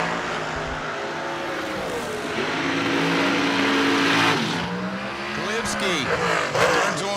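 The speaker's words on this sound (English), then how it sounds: "Blitzky's S&W Dragster is going to be doing the chase." An S&W dragster on a drag racing run at a fall bracket event, a loud roaring engine that surges and revs with rising and falling pitch sweeps, close by, with voices partly underneath.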